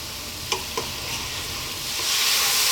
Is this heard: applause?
no